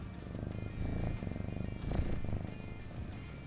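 A cat purrs close to a microphone, a steady rumbling purr rising and falling in slow breathing cycles, loud and near with no talking.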